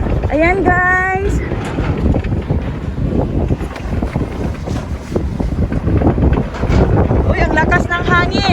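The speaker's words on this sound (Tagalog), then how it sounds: "Uy, ang lakas ng hangin." Strong wind buffets a microphone outdoors beside rice paddies with irrigation water in Japan, making loud, continuous rumbling gusts, with voices talking over it at the start and end.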